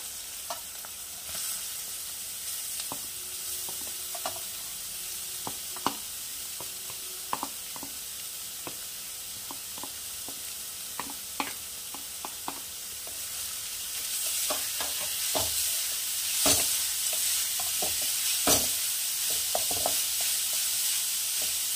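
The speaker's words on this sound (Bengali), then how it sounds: "বিটটা একটু নরম হবে, একটু ভাজা হবে" Finely chopped beetroot fries in a pan for a Kolkata-style vegetable chop, giving a steady soft sizzle with scattered crackles and stirring clinks throughout, without any talking.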